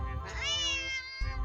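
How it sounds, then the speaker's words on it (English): A single drawn-out cat meow from a video game, loud and close, rising and falling in pitch before a short noisy break. "Oh, you're trying to use cat noise?"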